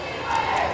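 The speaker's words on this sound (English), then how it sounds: "they go in the huddle, make a cheer" A girls' varsity volleyball team cheers together in a huddle during a high school match, a brief burst of massed young voices shouting in unison that swells loudly for under a second.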